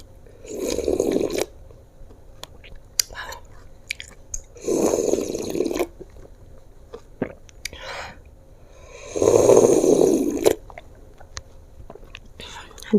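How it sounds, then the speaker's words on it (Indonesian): Someone slurps and chews sayur asem, a tamarind vegetable soup, close up in three distinct bursts of wet slurping and mastication, with quieter clicks and smacks between them. "seruput sayur asem"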